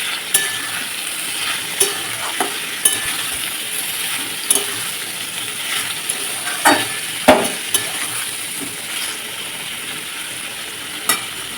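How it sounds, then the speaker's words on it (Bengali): Oil sizzles steadily as pieces of young jackfruit fry in a pan, with scattered clinks and scrapes of a spoon stirring now and then; no voices. "এবার আমি এঁচোড়গুলো তেলের মধ্যে দিয়ে দিয়েছি"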